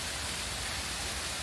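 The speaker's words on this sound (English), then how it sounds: "Little waterfall about" Small waterfall beside a bike trail at Ohiopyle State Park, Pennsylvania, a steady broadband rush of falling water that holds constant throughout, fairly close, with no voices.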